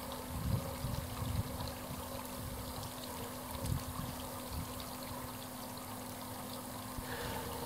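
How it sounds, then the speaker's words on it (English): A backyard pool fountain running with a steady, faint wash of splashing and trickling water under a constant pump hum, with a few soft irregular bumps, no talk. "turn off the pool fountain"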